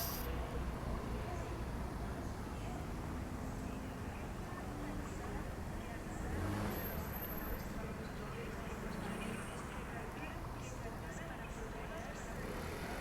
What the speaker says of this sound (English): The sound of nature and the sound of traffic.